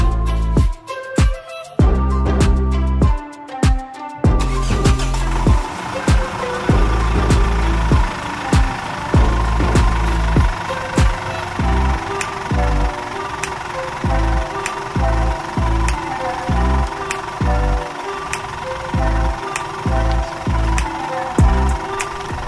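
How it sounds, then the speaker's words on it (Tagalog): Mitsubishi Montero Sport second-generation engine idling in neutral, a steady close mechanical rumble with a rhythmic ticking pulse, preceded by a few sharp clunks at the start. "Papaandarin na po natin ang makina at ilalagay natin sa neutral position ng lever."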